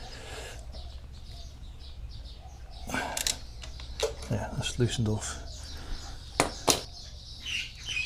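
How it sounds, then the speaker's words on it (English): Wild birds chirp and flap in nearby trees during a valve clearance check on a Royal Enfield Super Meteor 650, with sharp bursts of tweets over a quiet workshop hum while someone speaks briefly. "Wild birds in the trees here, they chap all day."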